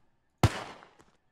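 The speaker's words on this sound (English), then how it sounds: "I'm shooting." A single sharp gunshot in a monster-hunting game, one loud close crack with a short decaying tail and a faint echo after.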